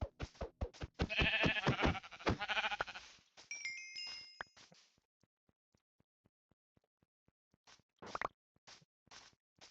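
Sheep bleating in the video game Minecraft, several loud, close bleats in quick succession followed by a sparse series of soft game clicks and a couple more short sounds.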